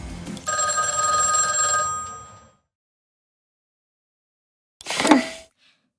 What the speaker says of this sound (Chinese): 维塔在这些电话亭里植入了后门， 他会观测我们的行动，并在我们需要的时候打给离寻梦者最近的。